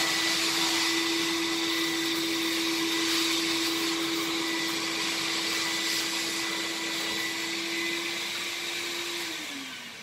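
A SureVac Silent walk-behind extraction vacuum machine runs with a steady, loud motor whine and a constant hum, winding down slightly at the end.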